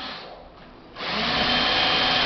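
A cordless power drill with a concrete bit whirs at a lower speed, then spins up sharply to a loud, steady high-pitched whine that holds to the end.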